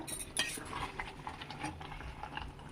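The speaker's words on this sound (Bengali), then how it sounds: "তো মাংস কড়াইয়ের মধ্যে দিয়ে দিয়েছি, এবার ভালো করে কষে নেব" Meat being stirred and browned in a kadai for biryani, with spatula scrapes and clinks against the metal pan over a soft background, no one speaking.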